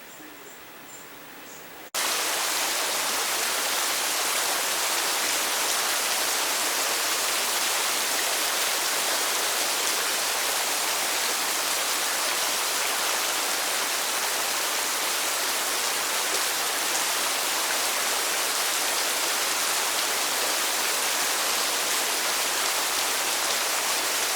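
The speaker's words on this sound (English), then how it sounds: "It's pouring. The streets are flooding." Heavy rain pours down on flooding streets, a dense, loud, unbroken hiss that starts abruptly after a brief quieter moment and stays constant throughout.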